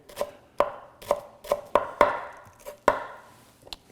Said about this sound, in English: We're gonna chop them up real fine.